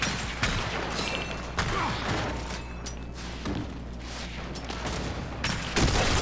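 Sniper rifle shots crack out in a Gears of War match, several sharp reports spaced unevenly over steady game background noise, with a heavier shot near the end.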